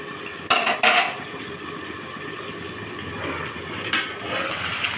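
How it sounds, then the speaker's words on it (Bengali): Spiced chicken sautéing in a pan with chili powder and masala paste: a low steady sizzle broken by a few sharp spatula clinks against the pan near the start and again later, fairly faint overall. "তো এই যে মাংস কষা হচ্ছে"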